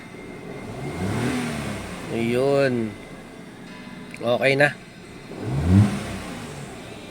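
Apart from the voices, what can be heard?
2012 Kia Picanto engine revving after spark plug replacement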